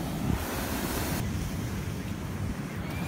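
Ocean waves breaking on the beach at Montauk, a steady, loud roar of surf mixed with gusty wind buffeting the microphone, continuous throughout with no voices.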